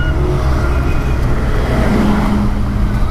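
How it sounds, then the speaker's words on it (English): A motorbike closes in through busy night traffic in Hyderabad, India, its engine a loud, steady drone with a rising tone over constant road noise from nearby vehicles. "And this bike's still coming."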